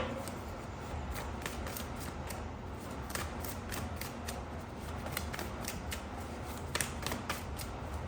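Tarot cards are shuffled and drawn in a steady stream of soft, close riffling and flicking, with a constant background hiss underneath.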